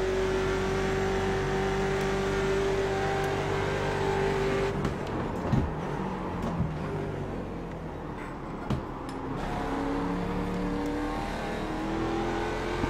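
A Mustang race car in a racing video game revs and drones loudly and steadily, its engine pitch holding then shifting as gears change, with no talk over it.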